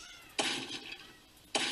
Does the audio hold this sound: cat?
yes